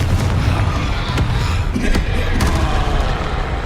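Confringo blasting spells explode in Hogwarts Legacy, a loud continuous rumble of booming blasts and thuds with sharp cracks scattered throughout.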